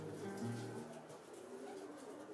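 Racing pigeons coo softly in a Senegalese pigeon loft, a low murmuring call near the start that fades into faint background bird sounds.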